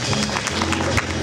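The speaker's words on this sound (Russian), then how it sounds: "Ваши аплодисменты, друзья." Audience applause at a fashion festival gala concert, a continuous wash of many hands clapping that fills the hall evenly from start to finish.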